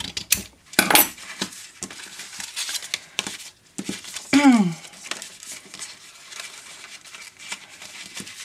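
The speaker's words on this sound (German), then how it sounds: "und schneide die Banderole hier einfach ab." Scissors snip through a paper band on a folded paper envelope, giving a crisp cut near the start and a short crinkling swish midway. Soft paper rustling and handling noises fill the rest, close and fairly quiet.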